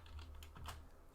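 A computer keyboard clicks in a short burst of a few quiet keystrokes, close and alone, while a command is entered.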